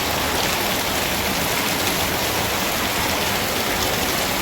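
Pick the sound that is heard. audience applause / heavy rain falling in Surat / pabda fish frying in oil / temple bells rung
heavy rain falling in Surat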